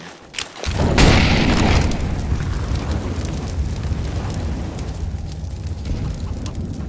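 An incendiary grenade goes off in Counter-Strike: Global Offensive: a short pop, then a loud whooshing boom that settles into a steady roaring burn of flames lasting several seconds.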